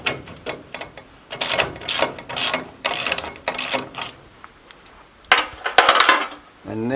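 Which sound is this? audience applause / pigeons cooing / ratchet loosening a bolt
ratchet loosening a bolt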